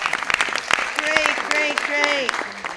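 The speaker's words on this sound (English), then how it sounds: "let me give you all a clap" A small group claps in a brief burst of scattered hand claps, with voices and excited vocal sounds mixed over the clapping.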